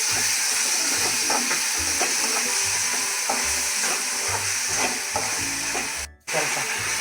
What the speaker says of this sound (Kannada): ಟೊಮೆಟೊ ಸ್ವಲ್ಪ ಫ್ರೈ ಆಗಬೇಕು. ಸ್ವಲ್ಪ ಉಪ್ಪು ಹಾಕಿ ಫ್ರೈ ಮಾಡ್ಕೊಳ್ಳೋಣ.